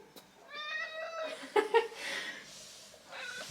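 A cat lets out a long, drawn-out meow that rises and wavers up close, with a short voice heard near the end.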